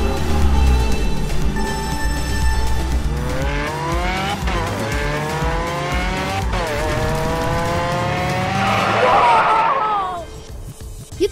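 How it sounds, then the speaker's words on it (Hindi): An RC toy Lamborghini car drives with a high whining motor that rises and falls in pitch, followed by loud tire squeals as it skids. "जैसा कि आप देख सकते हैं मैं आरसी कार चला रहा हूं"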